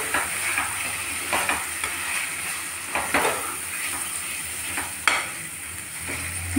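Onions and masala frying in a pan for a mutton curry with coriander leaves, a steady close sizzle broken by repeated scraping stirs, with no voices.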